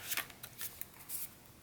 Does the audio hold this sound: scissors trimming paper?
yes